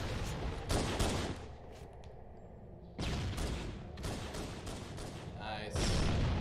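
Gunfire in the Halo video game on the Hang 'em High map, with sniper rifle fire and other weapons in sharp repeated bursts separated by a quieter stretch, mixed with game sounds and players talking.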